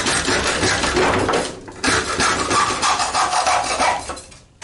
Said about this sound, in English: The biggest reason why I use this hacksaw,